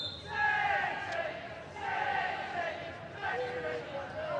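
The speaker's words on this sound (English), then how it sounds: "You can hear the travelling fans cheering on their team to see out this win" Travelling fans at a women's football quarter-final between West Ham United and Manchester City cheer and chant in a chilly stadium, a distant crowd roar swelling in waves under the low hum of the ground.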